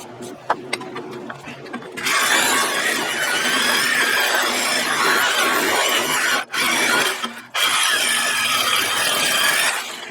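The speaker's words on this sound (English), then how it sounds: "I've got to cut these screws off" A power tool cuts through screws while parts are trimmed for a homemade barn door winch, a loud continuous grinding rasp after a few light knocks, briefly broken by two short pauses.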